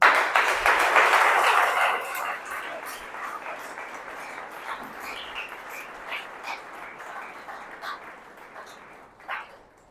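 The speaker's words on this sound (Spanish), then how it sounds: "Dele un aplauso al Señor." A church congregation applauds loudly in a burst of dense clapping that swells for a couple of seconds, then thins into scattered claps fading under a lingering room din, with a last isolated clap near the end.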